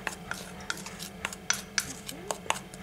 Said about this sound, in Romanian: Amestecăm cacao cu amidon.